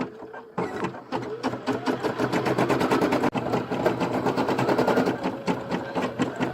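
An embroidery machine stitches black thread on a photo-based design, a loud, rapid, rattling needle chatter that runs nearly unbroken for several seconds after a short pause at the start.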